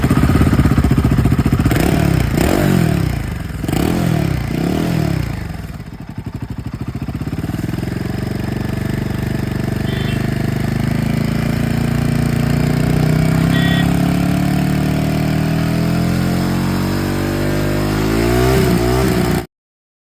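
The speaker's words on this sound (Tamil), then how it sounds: "இந்த பைக்கோட எக்ஸாஸ்ட் நோட் கேட்டுட்டு" A Royal Enfield Himalayan 450 motorcycle barks through a few sharp throttle blips, then settles into a long, steady exhaust note that climbs gradually. It is loud and close, with no talking.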